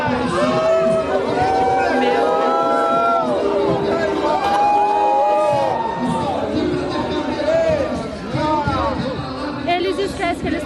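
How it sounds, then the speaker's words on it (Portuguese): A church congregation in Curitiba makes a loud, sustained stadium-like crowd noise, with booing, shouts and babble from many voices filling the room throughout. "virou estádio de futebol, fica vaiando"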